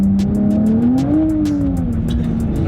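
A lowered Nissan Z accelerates hard on a wet private road and briefly breaks traction, with a loud, rising then steadying engine drone under rapid repeated tire and road noise, heard close from inside the car.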